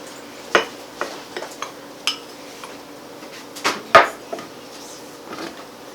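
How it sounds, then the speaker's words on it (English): Flour being stirred into a sourdough starter in a jar, heard as a scattering of sharp utensil knocks and scrapes against the glass, irregular and close, with quiet gaps between strikes. "just need to mix it enough so that the flour is all absorbed."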